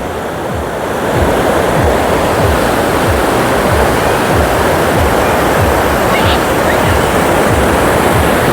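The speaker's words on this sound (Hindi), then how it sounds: "लहरें देखो कि ओ भाई साहब, कितनी बड़ी बड़ी लहरें आ रही हैं।" Big ocean waves break and surge steadily onto a Bali beach where surfers are out, a loud continuous roar of surf with no voices.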